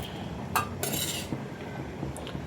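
Vegetables dropped into half-boiled dal in a metal cooking pot in a home kitchen, giving two short bursts of clattering and scraping against the pot, close and moderately loud over a low background hum.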